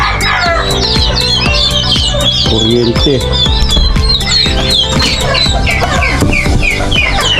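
Chickens cluck and chicks peep busily and constantly at close range in a backyard brooding area, with a voice talking over the poultry noise.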